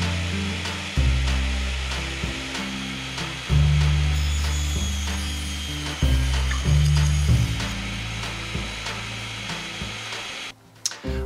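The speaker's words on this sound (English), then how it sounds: "I'm going to go ahead and cut 3 pieces at 31" A power saw cuts a 1x8 wooden board into pieces, with loud sustained whining passes at about 1, 3.5 and 6 seconds, each fading as the blade runs down, and no talk.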